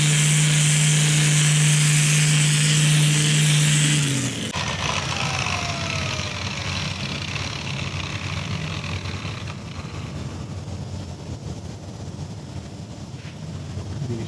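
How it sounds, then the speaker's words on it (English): An electric polisher hums steadily for about four seconds while gently polishing the paint of a 2022 Harley Davidson Low Rider S, then cuts off. Quieter room noise and light rustling follow. "Now I'm just trying to give it a nice, gentle polish to make sure that I have no micro scratches."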